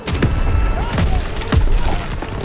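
Call of Duty: WWII gunfire during the Death Factory battle against Panzers, several loud booming shots about half a second apart over a dense, rumbling battle din, close and heavy.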